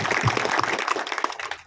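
A crowd claps in a dense burst of applause that tapers off toward the end, fairly close, with no voices over it.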